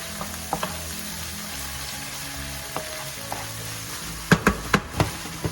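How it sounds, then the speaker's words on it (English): Ground pork frying in a pan for string bean adobo, a steady close sizzle with scattered clicks and a few sharp scraping knocks of stirring near the end. "this pork, ground pork, is all cooked up, which I believe it is now"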